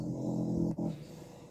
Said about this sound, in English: Now the dog want to be snoring like